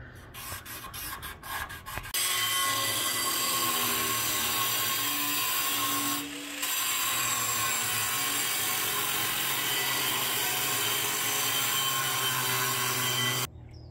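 A tool cuts a wedge into a steel 1x3 cyclekart frame rail, a continuous loud grinding rasp held steadily for about eleven seconds with one brief dip, after a few short scraping strokes.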